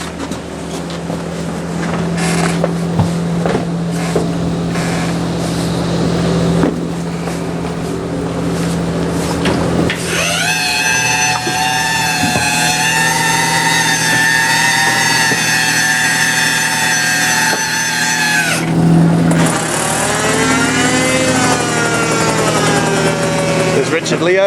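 A seine boat's winch runs loudly on deck, first a rumbling engine drone, then a strong whining tonal mechanical hum that cuts off briefly and restarts, with wind buffeting the microphone.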